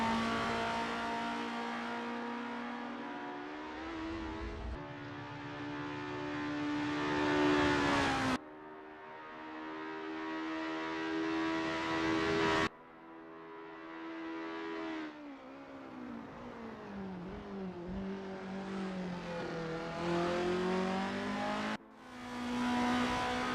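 Race car engines in a Formula racing video game at Lake Garnett 1963 rev and whine continuously, pitch rising and falling through gear shifts, loud and steady with abrupt cuts between cars.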